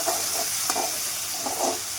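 A tadka of onion paste, coriander and oil fries in a pan for pav bhaji, a steady close sizzling hiss with a few brief bursts of stirring, and no talk.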